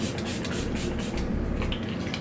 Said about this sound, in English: I did not get a setting spray, but just to set, I'm gonna go with my Kat Von D Locket.